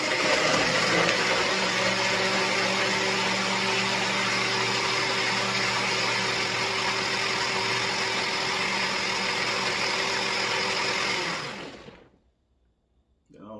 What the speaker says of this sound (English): I'm gonna start blending.